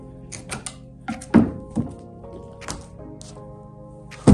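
A freshly set wood plank tile pried up from its mortar bed, giving several dull thunks and scraping knocks at irregular intervals, close and moderately loud, with a sharper knock at the end.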